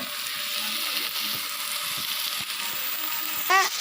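Tomatoes frying in oil for North Indian dal make a constant near crackle and sizzle with a few soft stirring knocks and a brief squeak near the end, and no one speaks.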